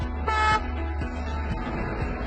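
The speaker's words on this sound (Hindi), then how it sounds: "दो शॉर्ट हॉर्न," A short, loud Indian train horn blast sounds close by over a steady rumbling background, with no voices.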